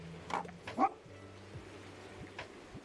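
A dog in the video game Tiny Bookshop gives two quick soft barks or yips, then a fainter third later on, quiet over a low game backdrop of simple tones.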